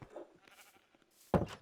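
Sheep bleat in the Minecraft video game, a faint short call followed by a louder, closer bleat near the end, with no talking over it.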